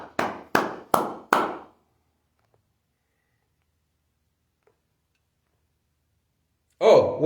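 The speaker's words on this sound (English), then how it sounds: "Give the Almighty a hand clap." Four sharp hand claps, close and evenly spaced, ring out in quick succession, followed by several seconds of near silence before a voice begins to speak.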